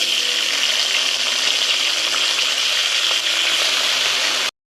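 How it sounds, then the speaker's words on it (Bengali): Flat beans frying in hot oil in a kadai, a steady, dense sizzle that holds close and even for several seconds with no talk, then cuts off abruptly. "ওই তেলটার মধ্যে আবার কটা সিম দিয়ে দেবো।"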